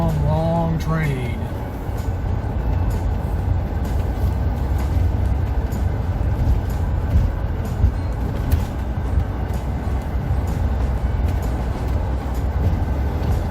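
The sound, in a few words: long train passing in Pickens, South Carolina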